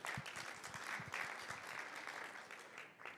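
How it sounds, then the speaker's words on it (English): Applause from a conference audience at a live CEO event in Sydney, a dense steady patter of clapping filling the room for about three seconds before easing off slightly at the end. "Another round of applause."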